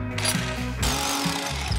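A hammer drill bores through exterior wall render with loud, continuous hammering and a steady motor drone. It runs without a break for the whole stretch and sounds close up.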